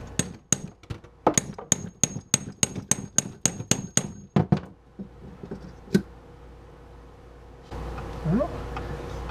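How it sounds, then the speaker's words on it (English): Handmade metal lugs being fitted with a tool: a rapid run of sharp, loud metallic clangs struck in a quick rhythm, then a few scattered strikes and a pause before a low rumble of handling. "I need ear protection for this doggone clanging."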